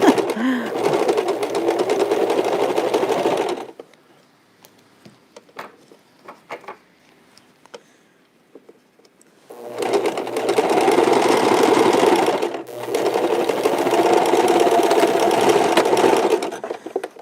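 A sewing machine stitches a fabric face mask in two long, steady runs, with a quiet gap of small handling clicks and rustles between them.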